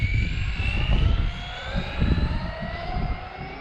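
A rebuilt XRT's engine revs at full throttle during a test run. It makes a loud, continuous whine whose pitch climbs steadily, with rough low rumble underneath and no talk.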